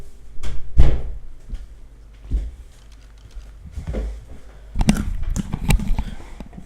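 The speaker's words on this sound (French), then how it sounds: "Attends, je vais fermer ma porte." A door is pushed shut with a few thuds and knocks, close by and fairly loud, amid some shuffling and bumping in a room.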